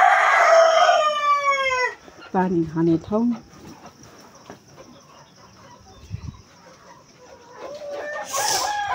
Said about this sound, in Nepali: यो चाहिँ नयाँ कुखुरा